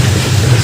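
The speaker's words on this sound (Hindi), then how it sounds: "रेलवे फाटक पे खड़ा हूँ, ट्रेन गुजर रही है।" Train passing at a railway crossing, a loud, steady close-up rumble with low droning wheel noise filling the whole moment, no talk over it.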